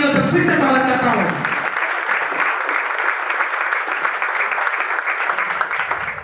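Strong, sustained applause from an audience welcoming seniors and honoured guests at a Janshakti Group speech event in Kanpur, loud and dense from start to finish after a voice speaks briefly at the opening.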